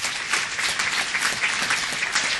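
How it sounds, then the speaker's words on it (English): Applause from the audience at a city council meeting, a steady round of clapping from a sizeable crowd that holds an even level throughout, with no talk over it. "So let's give them a round of applause,"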